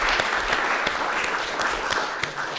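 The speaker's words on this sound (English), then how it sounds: "If we could give a round of applause for Angela and for Lisa for their work" A room of workshop attendees gives a round of applause to the leaders of a preaching workshop, a steady patter of many hands with a few sharper claps standing out.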